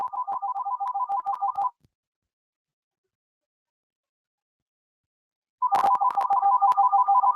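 A telephone rings in two bursts of rapid electronic trilling, each lasting a second or two, with several seconds of silence between them. The ringing is loud and close, with no voices, during a beekeeping session assembling mini nucs.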